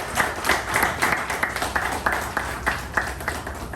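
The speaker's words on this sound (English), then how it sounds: "I would like to give a round of applause for him." A meeting audience applauds a speaker as he is introduced, a dense round of clapping with rhythmic peaks, fairly near and steady, with no voices over it.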